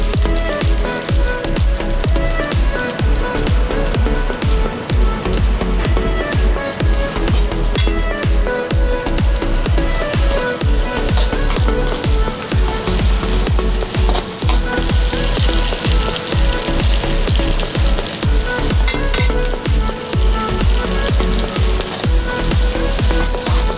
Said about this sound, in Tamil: அதே பாத்திரத்தில் நம்ம வெட்டி வச்சுருக்கிற வெங்காயம் சேர்த்துக்கலாம்.